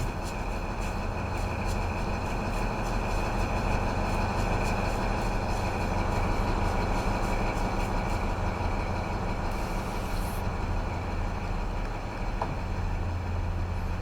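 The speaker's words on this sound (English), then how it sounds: "Let's take over this HST. Going to St. Pancras." An HST diesel train in Train Sim World 3 on the Midland Mainline toward St. Pancras gives a continuous, steady engine drone and rumble throughout, even and unbroken with no voices.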